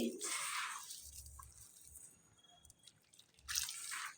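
Water trickles and drips in short bursts, quiet and close, into dough being mixed for a healthy tiffin snack, with soft pauses between the pours.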